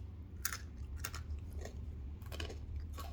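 Crunchy Indian snack being chewed up close, with a few sharp crunchy bites spread through steady munching and no talking.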